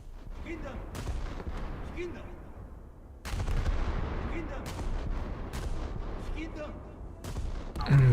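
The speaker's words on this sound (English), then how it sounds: "I'm going to get this salvo off before he gets in front of the island. I think I'll just have to fire." Battleship main guns fire a salvo in a naval video game, heavy booming blasts with one big onset near the middle and further rumbling reports, loud and close, with someone talking over them.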